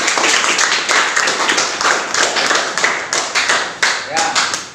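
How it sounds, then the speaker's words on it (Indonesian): Classmates clap together in a classroom, a dense burst of applause lasting several seconds with rhythmic peaks, close and loud, fading out near the end. "berikan aplaus untuk kelompok 2."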